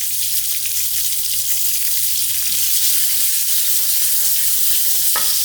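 Onions, dried and green chilies, coriander seeds and salt stir frying in a hot pan, giving a steady, loud, close sizzle with no voices, broken now and then by faint stirring scrapes.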